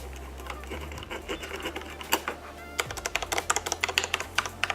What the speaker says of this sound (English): And you guys can hear the keys.